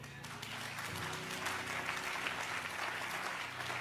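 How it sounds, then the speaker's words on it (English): A church congregation claps in a continuous, even wash of applause, faint in level and with no talk over it. "Increase that clap offering."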